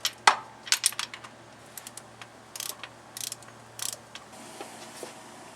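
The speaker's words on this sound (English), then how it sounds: "Come back in with the 14 millimeter socket and tighten them all down." A ratchet with a 14 mm socket tightens engine bolts during a Honda Accord 2.2L/2.3L F22/F23 timing belt and water pump job, giving several short, fairly close bursts of quick metallic clicks between pauses.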